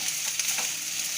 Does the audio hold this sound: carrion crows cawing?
no